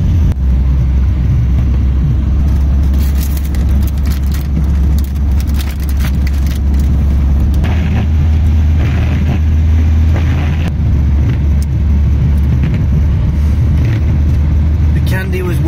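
A car driving on the road gives a constant low engine and road rumble inside the cabin, loud and steady throughout, with someone talking over it.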